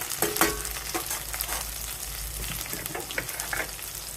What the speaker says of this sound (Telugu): కరివేపాకు కూడా వేస్తున్నాను.